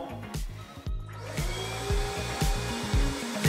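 A plastic cutter machine working on a house build site in winter, a steady motor whir broken by repeated rhythmic dips and surges as it runs, fairly close and alone.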